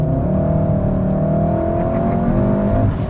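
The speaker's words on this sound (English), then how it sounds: "When you start it up, it starts with a crackle." A 2016 VW Golf GTI Clubsport S engine starts with a crackle and roars loudly and close, a steady revving drone held for a few seconds before easing off slightly.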